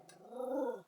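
A dog named Nacho gives a single short growling bark-like vocalization nearby, rising and falling over under a second, at a campervan stop in Sardinia.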